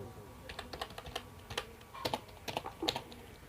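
Keys on a computer keyboard tapped one by one as a value is entered into accounting software, a steady series of distinct, moderately close clicks with slight gaps, quiet background and no talk.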